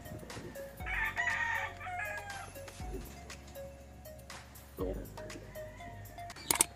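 Pet birds kept for racing stir restlessly in the background with fluttering and short calls, while people talk nearby and some handling thumps and clatter come and go.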